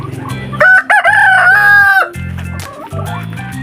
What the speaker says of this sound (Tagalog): papapakain ko pa lang guys sa mga alagang manok